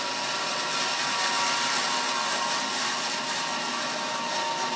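An Oliver 2416 36-inch bandsaw running in a workshop, giving a loud, steady, broadband whirring drone that holds constant throughout with no talking.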